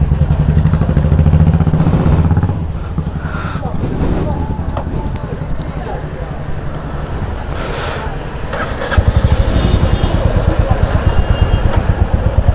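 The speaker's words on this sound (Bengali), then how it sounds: "চলো বাইক স্টার্ট দেওয়া যাক" A Royal Enfield Meteor 350 motorcycle engine starts and idles, a steady thumping rumble that grows louder partway through, with a voice speaking over it.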